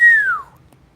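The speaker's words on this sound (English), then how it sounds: "That was an inward whistle." A single whistle drawn in on the breath, sliding downward in pitch and fading out within half a second, with quiet room noise afterward.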